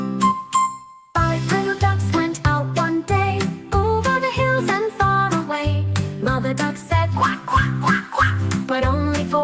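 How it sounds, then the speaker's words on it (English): A sung nursery rhyme about a mother duck and her ducklings, with quacking woven into a bouncy, repeating musical backing; the quacks come as short, rhythmic tones in the music rather than as a real duck. "Mother duck said quack, quack, quack, quack"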